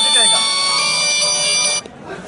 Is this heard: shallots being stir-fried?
no